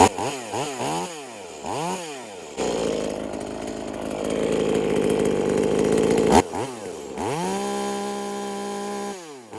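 A V-Modest 2511 top-handle chainsaw, an Echo 2511 clone, gives a few quick throttle blips, holds a loud, sustained high-RPM scream for about four seconds, then drops back and revs again, close by.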